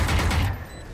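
A loud, dense burst of rapid gunfire in a shooter video game, lasting about half a second before dropping away to quiet game ambience.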